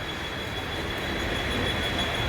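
A Harbour line local train bound for Seawoods, toward Panvel, on the Trans-Harbour route gives a steady, loud rumble of wheels and carriage noise with a faint high squeal running throughout, no voices.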